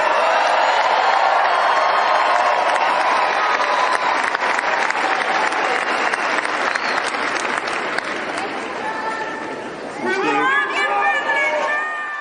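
An audience applauds continuously at a presidential executive order signing, a dense wash of clapping with a few cheers and crowd chatter mixed in, fading slightly toward the end as a voice comes through.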